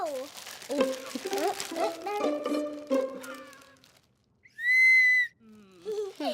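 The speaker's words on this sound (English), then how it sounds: "Look, a whistle!" A toy party whistle gives one short, shrill, steady blast, heard between stretches of a child's animated cartoon chatter.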